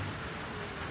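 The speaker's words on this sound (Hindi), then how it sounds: "कराची में बारिश का सिलसिला शुरू है।" Steady rain falls over Karachi as a dense, even hiss of drops on surfaces, loud and continuous throughout, with no talk.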